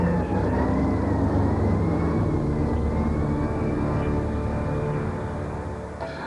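An ambulance carrying Lee Harvey Oswald speeds to Parkland Hospital in Dallas, its siren holding a steady, drawn-out wail over dense, noisy crowd and street rumble, fading slightly toward the end.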